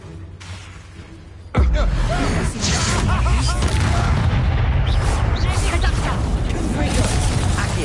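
Repeated explosive Confringo spell blasts in Hogwarts Legacy, a heavy boom at about 1.5 s followed by a dense, continuous roar of crackling, rumbling combat noise that stays loud to the end.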